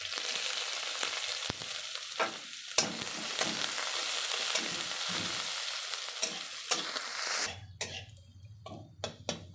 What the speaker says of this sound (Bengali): তো দেখো পেঁয়াজ রসুন ভাজা হয়ে গেছে